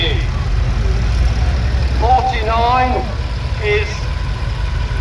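Restored tractors, including a Massey Ferguson 3095, run in a tractor parade at an outdoor show, giving a steady low engine rumble throughout while a voice talks over it.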